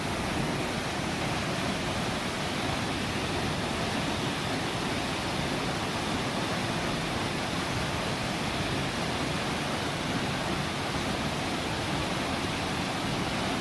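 Water rushes steadily at a frozen waterfall in Savage Gulf, where buckled ice edges the flow; a constant, dense roar with no other sounds.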